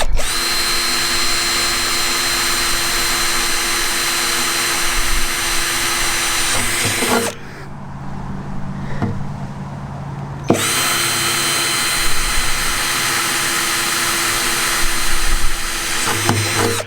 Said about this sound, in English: Just marked in a couple of spots here where I'm going to drill the holes